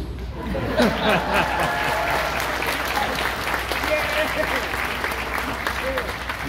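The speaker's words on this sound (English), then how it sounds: "a big round of applause for Robert Englund!" Convention audience at a Freddy Krueger Q&A in Charlotte applauds Robert Englund, a steady wash of many hands clapping with scattered cheers, sustained and fairly loud throughout.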